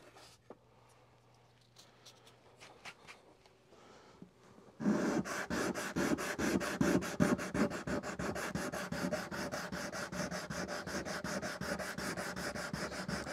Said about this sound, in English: do some nice sanding in there.